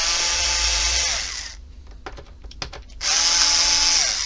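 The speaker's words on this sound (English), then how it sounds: "Take all your screws out again." A power screwdriver backing screws out of an old PlayStation 4 console whines loudly in two long bursts, with a short pause of small clicks and rattles between them.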